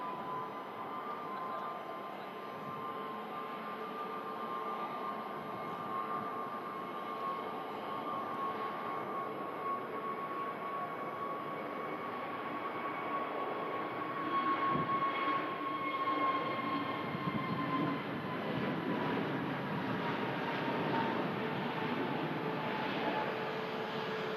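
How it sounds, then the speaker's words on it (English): A Pegasus Airbus A321neo jet taxis past at Manchester Airport's Runway Visitor Park, a steady engine whine and rumble with a sustained tone that slowly shifts as it passes fairly close. "And a Pegasus A321neo taxiing past us here"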